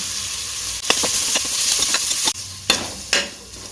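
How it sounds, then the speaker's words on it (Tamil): Ginger garlic paste and a little turmeric sizzle in a hot pan while being sautéed for a bitter gourd beef gravy, with steady frying hiss and several sharp scraping stir strokes of a spoon against the pan. "இஞ்சி பூண்டு பச்சை வாசனை பொருளோ நல்லா வதக்கிடலாம்"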